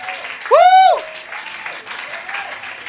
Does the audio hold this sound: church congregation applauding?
yes